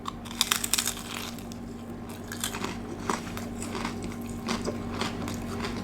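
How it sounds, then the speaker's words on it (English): Close, crisp crunching as someone bites and chews a fried lamb pastry like a large wonton, sharp cracking bursts followed by steady chewing, no talk. "Really crunchy. It's like a massive wonton just with some different flavors inside."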